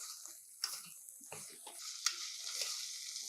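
Beetroot cubes and sprouts are stirred together in a pan, making quiet scraping strokes and a couple of sharper utensil knocks over a soft sizzle.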